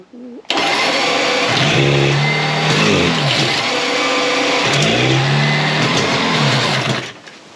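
A Yamaha TZ 350 two-stroke motorcycle engine catches on its first heat cycle and revs hard and loud, blipping up and down in repeated surges before dropping off, with voices faintly underneath.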